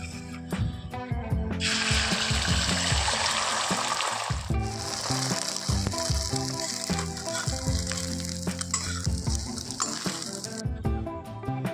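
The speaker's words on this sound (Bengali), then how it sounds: "এদিকে আমি ডিমটা ভাজছি" An egg frying in a pan crackles and sizzles loudly and continuously at close range, with a busy spattering texture and no talking.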